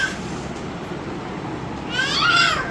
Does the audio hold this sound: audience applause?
no